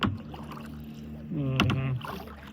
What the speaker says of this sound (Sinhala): හබල අතට හුරු වෙන්න ඕනේ. හුරු වුණාට පස්සේ තමයි බෝට්ටුව නියමල ගෙනියන්න පුළුවන්.